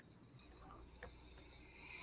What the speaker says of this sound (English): Your cricket's still down there with you.